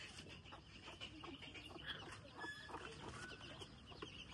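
Hens, among them a newly added white one, cluck softly and steadily on a small poultry farm with chicks, a faint, continuous background of bird calls and no talk.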